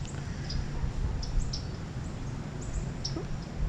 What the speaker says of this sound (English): if I shut my mouth, you can hear the birds are singing